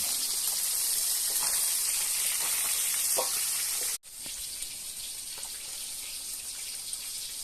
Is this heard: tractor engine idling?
no